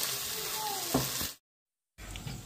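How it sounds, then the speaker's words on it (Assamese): Onion and tomato paste frying in melting butter for paneer masala gives a steady, close sizzling hiss, broken by a short stir and then a brief silent gap before the sizzle returns. "বাটাৰখিনি গলালৈকে আৰু অকণমান টাইম ভাজি ল'ম।"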